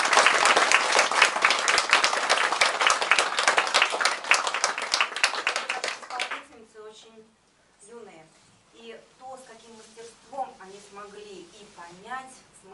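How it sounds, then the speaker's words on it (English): An audience at an Indian cultural center event in Russia gives a strong round of applause for about six seconds, then the clapping stops and someone speaks alone. "I think they certainly deserve a huge round of applause."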